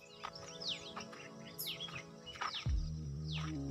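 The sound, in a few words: birds chirping in a forest in the morning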